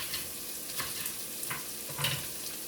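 Chopped celery and onion sizzle steadily in a hot pan for a homemade lentil soup, with a few soft stirring scrapes breaking through the close, continuous frying.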